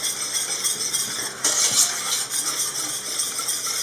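A cornstarch and unsweetened cocoa mixture is stirred cold in a pan for hot chocolate, giving a steady scraping swish with a few brighter clinks midway, close and continuous with no talk.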